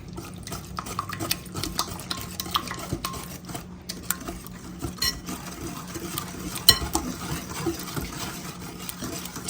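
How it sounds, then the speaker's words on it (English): Butter mixture for a cake being whisked in a bowl, a steady run of quick scraping and clinking strokes with occasional sharper taps of utensil against the dish, close by with no talk. "We gotta whisk that together."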